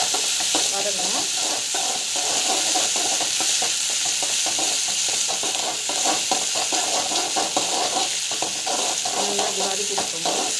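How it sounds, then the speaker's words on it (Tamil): Vegetables for rava vegetable kichadi sizzle and fry steadily in a pan, with frequent stirring scrapes over a constant hiss, close and fairly loud throughout. "நல்லா வதக்கி இருக்கோங்க."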